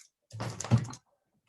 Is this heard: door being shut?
yes